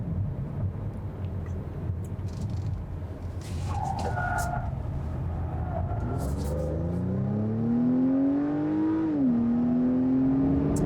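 An Acura TLX with augmented engine sound cruises along: a low road and engine hum with a rising, then easing tonal engine note that swells and settles near the end, no talk.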